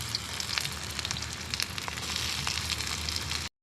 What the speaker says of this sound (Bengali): তেলটা গরম হয়ে গেছে, বেরেস্তার জন্য পেঁয়াজটাকে ভেজে নিচ্ছি